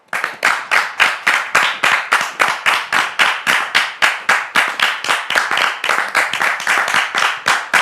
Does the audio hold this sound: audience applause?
yes